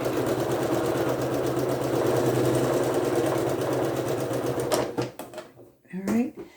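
A sewing machine stitches quilt triangle squares with a loud, steady mechanical whir for about five seconds, then stops, leaving a few soft handling clatters and a brief voice at the end.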